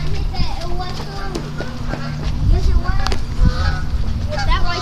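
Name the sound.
birds on the house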